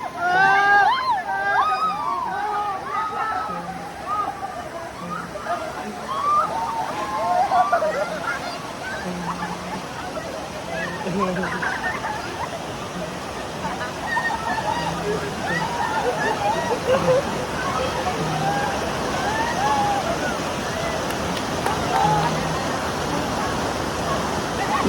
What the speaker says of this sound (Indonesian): Ini air terjun nih.